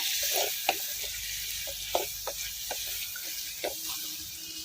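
Tomatoes and onions with a little salt sauté in a pan with a soft, steady sizzle, punctuated by occasional light scrapes and taps of stirring.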